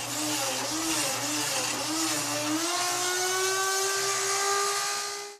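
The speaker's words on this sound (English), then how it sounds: "it creates the cavity with the drill right there" A power drill in a jig whines steadily while boring a mortise lock cavity into wood, its pitch wavering and then rising smoothly, loud and close with no talking.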